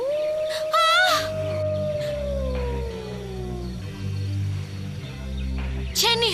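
A divine dog howls in a dubbed animated series, a long, loud, wavering howl sliding slowly downward over a low pulsing musical drone, with further short rising cries near the start and end.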